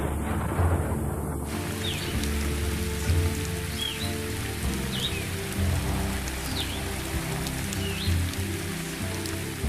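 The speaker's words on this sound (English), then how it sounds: "the big thunderstorms, bringing the season's first heavy downpours," Heavy thunderstorm downpour at the start of the wet season in the wild, a dense, steady hiss of rain on the ground throughout, with a low rumbling bed underneath and occasional faint bird chirps.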